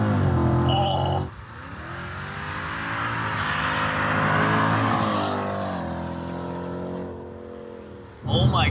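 Camaro SS accelerating hard: a loud, close V8 engine roar climbing steadily through the revs in one long continuous pull, with a gear change near the end and faint speech underneath.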